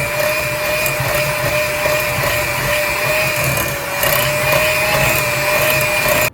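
A hand mixer creams butter for a small batch of butterscotch potato chip cookies, a steady loud motor whine with a scraping, churning texture that runs continuously before cutting off abruptly at the end.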